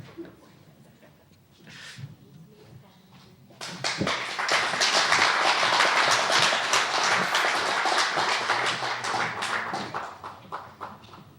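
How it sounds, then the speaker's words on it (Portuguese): An audience bursts into sustained applause after a quiet start with a few scattered claps, loud dense clapping holding for several seconds before tapering off, with a voice faintly audible beforehand. "As palmas, que não as mereço."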